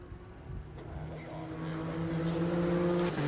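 A Porsche Cup race car on the front straightaway at Buttonwillow, its engine note rising steadily as it accelerates and draws nearer, growing louder over a few seconds.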